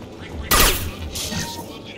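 A single loud burst from a Geth pulse rifle in the video game Mass Effect 2, a sharp blast followed by a quieter electronic tail and faint game ambience.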